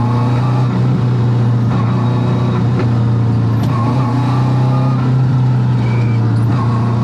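A light, raw Ford Escort pulls out to overtake, the engine drone building steadily and loud from inside the car, with a strong low hum and road roar running throughout.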